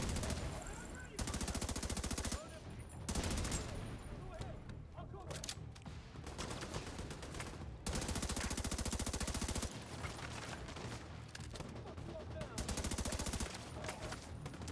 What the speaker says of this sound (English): This rifle is so much easier to shoot